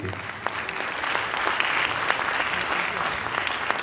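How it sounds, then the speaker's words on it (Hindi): An audience at an evening charity event applauds in a steady, full round of clapping that swells slightly midway and carries on throughout, with a voice faintly audible beneath it. "तालियां तो बहुत ज़्यादा होनी चाहिए थी"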